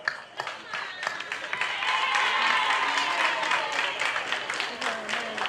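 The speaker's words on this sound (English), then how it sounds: "Round of applause." A crowd claps steadily in a sustained round of applause at a prison inmate graduation ceremony in Banjul, building slightly then holding, with some voices mixed in.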